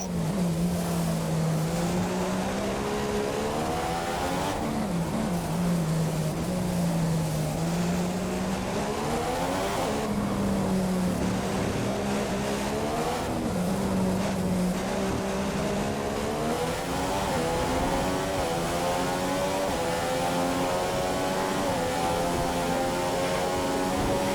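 A Formula 1 car in the F1 2015 game at the Monaco Grand Prix, its engine screaming at high revs in a loud continuous whine that rises and dips with gear changes, no talking.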